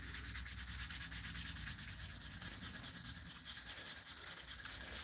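A knife blade is sanded by hand at 600 grit, a steady close rhythmic rasping stroke repeating evenly throughout with no talk.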